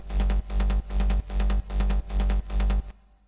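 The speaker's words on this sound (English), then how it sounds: "The first patch is called Bass Sigh," Serum synth bass preset Bass Sigh from the Doomsday pack: seven loud, driven bass hits in a steady pulse, each swelling with gritty upper harmonics, then a soft fading tail.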